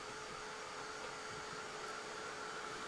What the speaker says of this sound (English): I'm going to grab my heat tool again and give these a nice little dry.